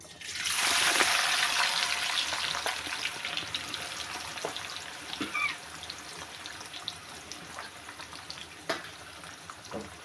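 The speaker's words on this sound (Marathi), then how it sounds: "तेल गरम झालं त्याच्यामध्ये हे कांदा टाकून घ्यायचा तळून" Chopped onion hits hot oil in a pan for veg biryani, bursting into a loud, steady sizzle that settles into a continuous crackling fry with occasional sharper pops, close and without talk.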